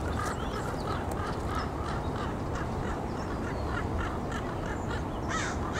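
Crows caw in a loud, continuous ruckus, many harsh calls overlapping nearby with a few squawks standing out, and no talking.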